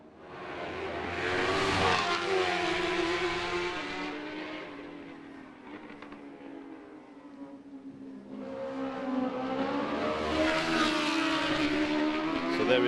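A racing motorcycle at the Macau Motorcycle Grand Prix warm-up passes twice with a roaring engine, each run rising to a loud peak and fading away between them, heard from trackside.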